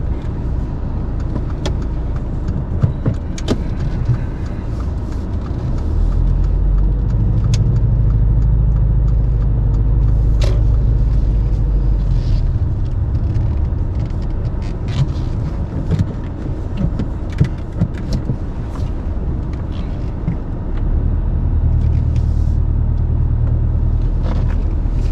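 A car reverses into a parallel parking space during a driving test. A steady, close engine rumble rises at times as the manoeuvre goes on, with no talk over it.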